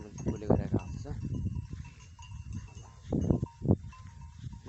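Local goats bleat repeatedly in a Nepali farm setting at dusk as a dog herds them, several calls overlapping at moderate distance, with a faint bell clinking in the background.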